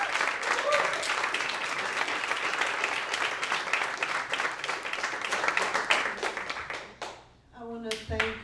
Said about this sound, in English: A big clap for them, please.